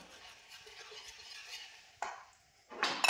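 Gram flour (besan) batter being stirred with water in a bowl, soft scraping strokes at close range with a couple of sharper clinks of a spoon against the bowl near the end.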